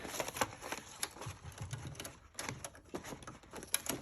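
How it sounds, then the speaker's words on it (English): Quiet, rapid mechanical clatter of a sewing machine running in short bursts, with soft knocks and brief pauses between stitches. "I'm just going to sew it down"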